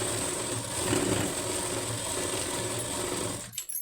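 A sewing machine stitches slowly along a blouse lining in a steady, close, continuous whir that cuts off abruptly near the end.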